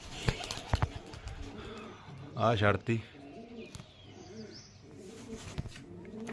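Pigeons coo in soft, repeated throaty bursts around a rooftop loft where racing hen pigeons are released, with someone talking nearby and a louder flutter or clatter in the middle.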